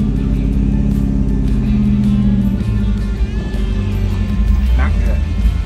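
A long-forgotten Ford Mustang GT running while it moves, its engine droning low and steady with slight changes in pitch, while people talk close by.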